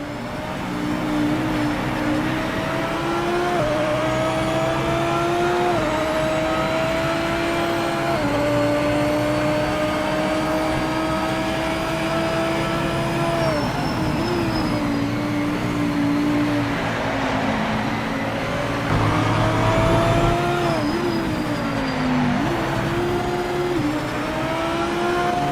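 An Audi R8 GT3 Evo 2 race car in a wet-weather racing video game holds a loud, continuous engine whine close up, its pitch climbing through the gears and dropping sharply at each shift and braking point.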